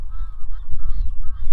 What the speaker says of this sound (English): Mama goose and Papa goose are flying home to their little egg babies.